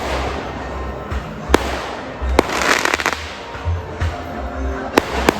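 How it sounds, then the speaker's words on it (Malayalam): Sharp firecracker bangs go off at intervals during a temple festival procession, with a cluster of crackling pops in the middle and a murmur of people in the background. "പടക്കത്തിൻ്റെ സൗണ്ട് കേട്ടോ"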